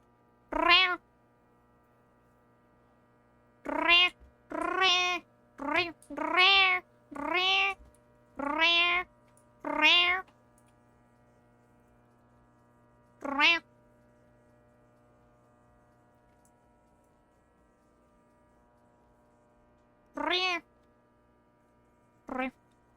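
A person imitates cat meows in a run of about ten short, close, nasal calls. They come quickly at first, then sparsely with long pauses, over a faint mains hum.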